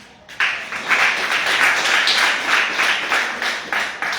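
A church congregation bursts into applause after a brief quiet moment, then many hands clap steadily and loudly in a rhythmic, dense wash that fills the hall.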